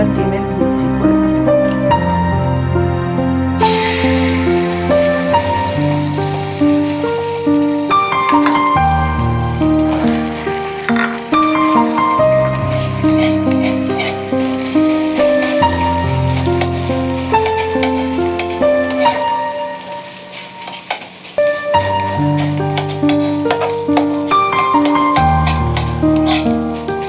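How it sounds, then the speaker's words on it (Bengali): Eggs scramble in hot oil in a wok, a steady crackling sizzle running beneath loud, continuous background music. "এবার ডিমের ভুজি করে নেবো।"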